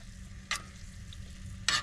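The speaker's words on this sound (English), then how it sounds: "chili infused olive oil to cook this steak" Marinated steak frying in chili-infused olive oil, a steady low sizzle punctuated by two brief sharp crackles or utensil scrapes, fairly quiet and close.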